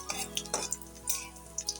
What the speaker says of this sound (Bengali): অল্প অল্প করে বড়াটা ভাজছি